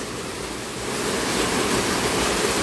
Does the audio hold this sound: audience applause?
no